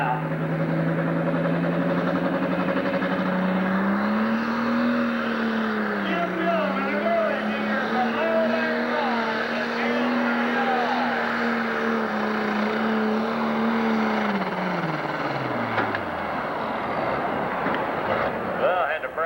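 Pulling tractor engine at a 1997 Illinois Tractor Pulling Association event in Sandwich, Illinois, in the 10,000 and 12,000 classes, holding a loud, sustained roar whose pitch climbs, dips and swells before dropping off near the end.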